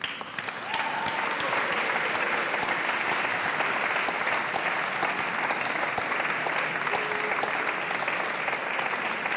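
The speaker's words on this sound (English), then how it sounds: "a last big round of applause for all of our winners" Sustained applause from a large audience at the European Charlemagne Youth Prize ceremony in Aachen, a dense, even wash of clapping for prize winners that holds steady throughout.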